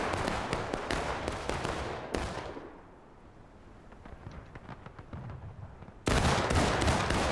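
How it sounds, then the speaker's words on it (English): Firing squad volley in a multiplayer online battle event, a dense crackle of many close gunshots at the start, a sharp blast, scattered quieter shots, then another loud burst of massed gunfire at the end. "executed by the firing squad"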